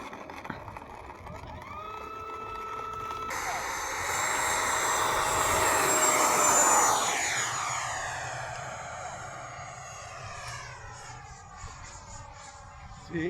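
A light airplane passes with its engine droning, swelling to a loud peak overhead and then fading as it moves away, on a cold, very windy day at an airfield.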